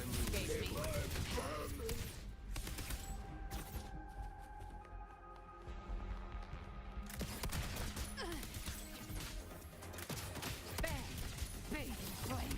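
Video game gunfire rattles in dense bursts at the start and end, over a continuous busy battle soundscape. Voices and game dialogue sound throughout.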